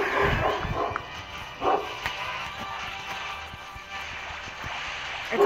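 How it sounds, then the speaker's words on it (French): A dog barks in short sharp bursts near a person playing a game indoors, fairly faint and intermittent under a low background hum. "Désolé pour les aboiements."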